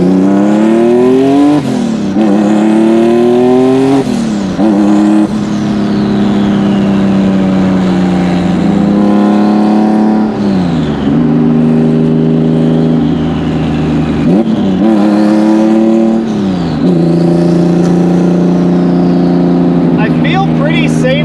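Subaru WRX STI with a swapped EG33 flat-six, engine revving hard in loud rising and falling sweeps as the tires break loose, with a voice talking over it.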